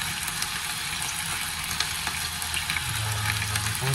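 Spices fry in a hot pan with a dense, steady sizzle and crackle, close and continuous throughout, with no talking.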